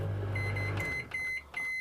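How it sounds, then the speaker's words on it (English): A microwave oven hums briefly after its start button is held, then gives a run of short, clear electronic beeps, close by in a quiet kitchen. "holding the start button in for a second, and that will put the microwave on for 30 seconds"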